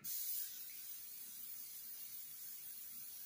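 A steady, close hiss from an aerosol spray can, louder for its first half-second before settling into an even sputtering spray with no talk over it.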